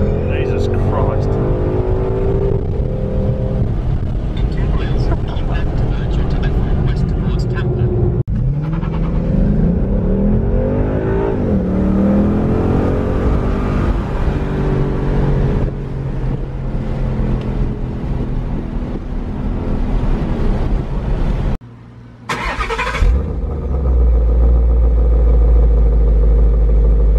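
A 2018 Ford Mustang GT Premium in sport mode, its engine roaring loudly as it accelerates through rising and falling gear pulls, with people talking over the engine and a sudden short cut near the end.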